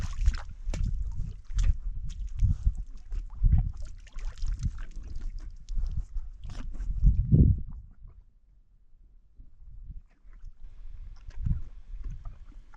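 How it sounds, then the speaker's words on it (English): Wild mustang horses drink and splash in a desert spring, giving irregular wet sloshes and slurps nearby, some louder splashes, with quieter stretches between. "Just horses"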